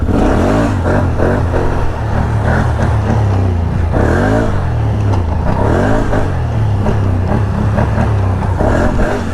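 A 2023 Can-Am Outlander 850 XMR ATV revs hard while popping a wheelie on a trail, its engine roaring loud and close in steady, surging waves for the whole stretch, with no talking.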